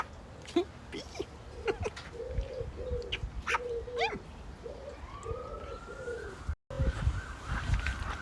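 Several soft, low pigeon cooing calls repeat in a steady series outdoors on a windy day, with wind noise throughout and a police siren rising faintly in the distance.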